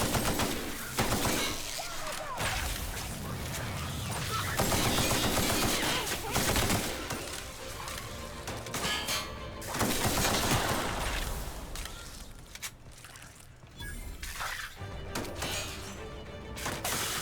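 Gunfire from shooting bugs in The Outer Worlds: repeated bursts of shots and impacts layered over game sounds, loud and dense across the whole stretch with brief lulls between volleys.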